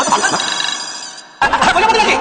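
A telephone rings in a domestic sitcom scene, a steady trilling tone that breaks off briefly and then resumes, fairly loud and close with no one speaking over it.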